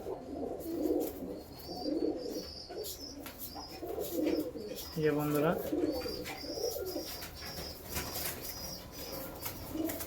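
Low coos from moulting male pigeons continue with bursts of wing flapping and high chirps, while someone speaks a few words over them.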